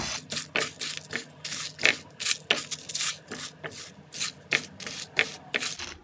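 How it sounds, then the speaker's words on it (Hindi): Spices for tikka masala powder dry-roasting in a pan over a low flame, with a spatula scraping and rustling them in quick, regular strokes close to the pan. "ये देखिए मैं इन सब चीज़ों को भून रही हूँ।"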